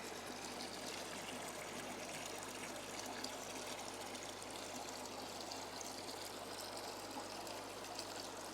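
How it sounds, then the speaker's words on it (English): Water trickling and pouring as it is drained from a low-tech planted aquarium, a Juwel Trigon 190, into buckets; a faint, steady stream with no voices. "we're just going to take a few buckets of water out of this"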